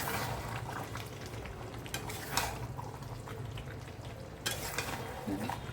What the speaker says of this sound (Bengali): মাংস রান্না বসিয়ে দিয়েছি, কষা কষা করে মাংস হবে